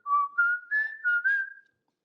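A person whistles a short, clear tune of four or five rising and falling notes up close, lasting under two seconds and then stopping into silence.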